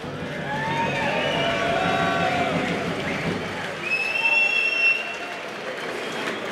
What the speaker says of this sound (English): Perhaps you might give them a round of applause